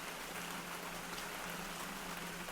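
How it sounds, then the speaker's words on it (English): Steady rain pattering on a canal at night, a soft continuous hiss of drops close by with no gaps or voices over it. "The fire's soothing crackle and the rain's gentle patter lull you into a state of peaceful reflection."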